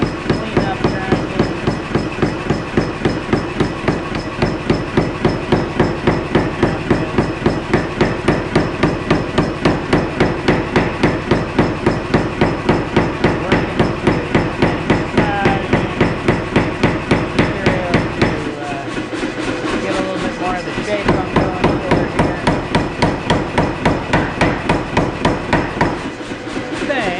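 Hammer forging a Wootz steel integral chef's knife, a long run of rapid, evenly spaced hammer blows ringing on the anvil, briefly pausing before the rhythmic striking resumes.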